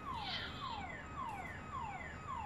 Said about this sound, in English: Oh my god, whose car alarm?